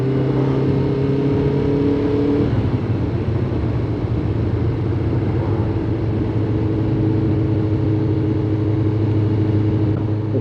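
A Suzuki GSX 600 motorbike engine drones steadily while riding, a loud, continuous mid-pitched hum with wind rush that shifts tone slightly partway through and holds at a constant level throughout.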